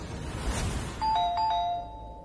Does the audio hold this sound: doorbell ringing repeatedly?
yes